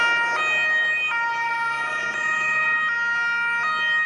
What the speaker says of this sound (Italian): Le sirene squarciano il silenzio della notte di Palermo.